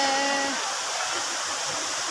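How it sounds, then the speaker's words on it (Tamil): Thiruparappu waterfall in Kanniyakumari rushes down with force, a dense, steady roar of falling water filling the whole clip, loud and close with no voices. "தண்ணி பாருங்க எவ்வளோ ஃபோர்ஸாக வருது"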